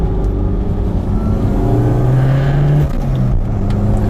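A Toyota MR2 Turbo pulls hard under acceleration, its engine note rising steadily up to 5,000 RPM before a brief dip at the shift, loud and close throughout with no talking.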